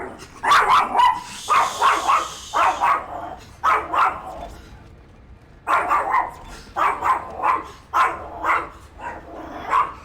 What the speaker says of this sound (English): You just made the dogs lose their fucking shit by trying to start the Roomba.